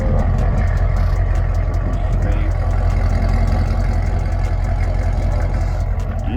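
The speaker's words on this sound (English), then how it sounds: "Let me see if I can get a few revs for y'all real quick, just so y'all can hear it" A modified Chevrolet Camaro ZL1 engine rumbles loudly and steadily up close, a deep continuous growl with little change in pitch.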